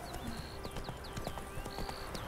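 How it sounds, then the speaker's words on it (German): Steady clip-clop of horse hooves at a walking pace along a road in The Witcher 3 video game, with chirping birds in the background. "Mein Pferd, was der Straße folgt."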